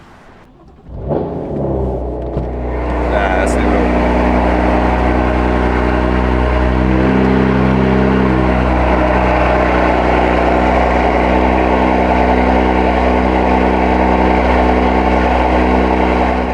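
A BMW F80 M3 with an AWE SwitchPath exhaust fires up from cold: a quiet moment, then the crank and catch, a brief flare, and a loud, steady rumbling idle that holds close and constant. Someone says a few words at the start.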